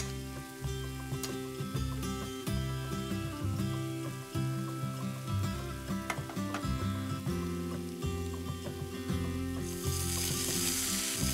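Fennel seeds and crushed coriander sizzle in desi ghee in an Indian kitchen, a constant crackling fry that sits under prominent background music for the whole stretch, with no one speaking.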